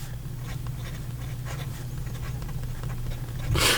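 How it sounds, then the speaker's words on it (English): Xezo Incognito fountain pen with a fine steel nib writing St. DuPont Royal Blue ink on paper, a faint, steady scratching of strokes close up, with a brief louder rustle at the end. "So here we go with the writing sample for the Xezo"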